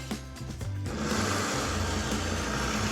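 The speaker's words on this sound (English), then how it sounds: "I'm gonna turn the blender on and slowly add in my hot butter to help emulsify the" A kitchen blender whirs up to speed and keeps running steadily while it blends hot sauce with melted unsalted butter and a little lemon juice, loud, close and continuous.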